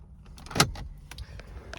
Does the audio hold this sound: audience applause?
no